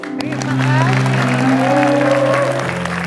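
Loud, sustained applause from a studio audience on the OKAY BOS TV show, honouring Dr. Reisa, with crowd noise and a steady tonal hum running through it for about three seconds.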